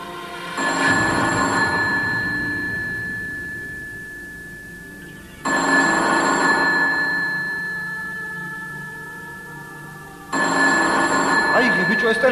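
An indoor telephone bell rings loudly three times, each long jangling burst fading slightly before a pause and the next ring.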